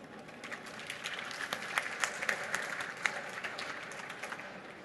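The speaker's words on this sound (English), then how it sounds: "please give a big round of applause to Alvaro." Audience applause at a MoneyConf 2017 tech conference session, a fairly quiet, steady patter of many hands with scattered sharper claps, heard from a distance in a large hall.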